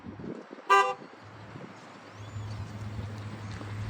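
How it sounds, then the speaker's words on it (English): A truck horn gives one short, loud, close honk during a vehicle inspection, then the engine idles with a low steady rumble that grows slightly and runs to the end, with no talk. "All right, honk the horn."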